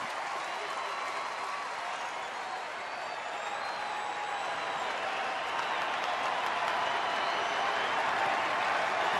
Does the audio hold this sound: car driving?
no